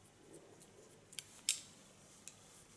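Scissors cutting hair during a short haircut: a few faint, crisp snips spaced irregularly over a quiet, hissy room background, with one louder clean cut in the middle.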